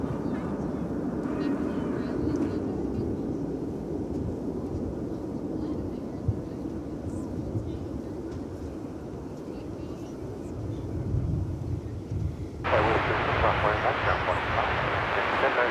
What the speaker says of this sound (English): We shall endeavor to bring the takeoff of this aircraft to you.